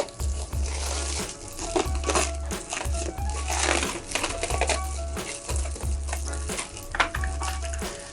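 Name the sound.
scissors or tin snips cutting flexible ducting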